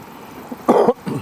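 A single short cough, close and fairly loud, followed by a softer throat sound in an otherwise quiet room.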